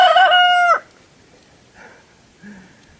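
A cockerel in a small back garden crows once, loud and close, then a couple of faint clucks follow in the quiet.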